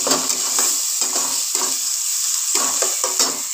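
Grated onion fries in a pan with a steady, close hiss, broken by repeated scraping stir strokes in uneven bursts, with no talking.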